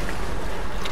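A motor boat on water in the Resident Evil 4 video game makes a brief, loud, steady wash of engine and water noise.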